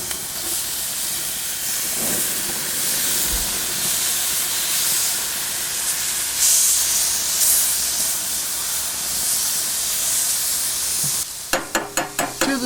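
Barbecued pork chops sizzling and hissing steadily on the grill, a constant crackling spatter, ending with a few sharp clicks.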